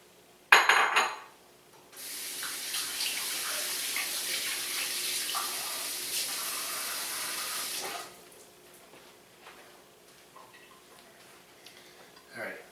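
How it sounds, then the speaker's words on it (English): A kitchen tap runs steadily for about six seconds for a quick hand wash after touching raw shrimp, preceded by a sharp clatter and followed by quieter handling noises. "touching raw seafood, so I'm going to run a quick wash here"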